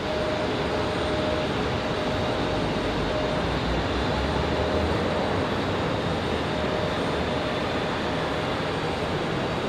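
Airbus A319 coming in to land at Raleigh-Durham International Airport, a continuous loud jet engine roar with a faint steady whine, sustained and close throughout.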